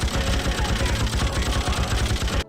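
Gunfire from weapons in the video game Freedom Fighters: loud, continuous automatic fire with rapid, evenly spaced bursts and no letup.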